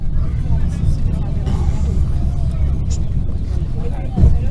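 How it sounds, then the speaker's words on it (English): Steady low engine rumble and road noise from a bus travelling through Lesotho, heard from inside, continuous and fairly loud with a brief bump near the end. "This is what my life is like on a bus in Lesotho."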